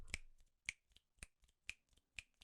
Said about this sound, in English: you could do a double snap